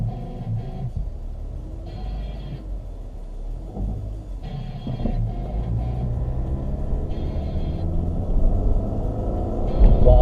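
A 2.5-litre car engine accelerating, low rumbling drone building steadily in strength with gear-change dips, heard from inside the car with no talk.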